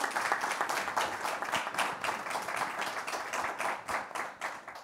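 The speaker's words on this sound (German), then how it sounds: "Großen Applaus." Audience applause at a film festival panel in Munich, a dense run of many hands clapping that stays fairly loud and steady throughout with no voices over it.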